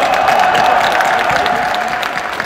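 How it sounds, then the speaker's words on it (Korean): Loud, close applause from a party convention crowd greeting newly elected leaders and candidates, a thick wash of clapping with a faint steady tone running beneath it, tapering slightly toward the end. "새로 선출되신 최고위원님들과 아쉬움을 삼킨 후보님들께도 박수 바랍니다."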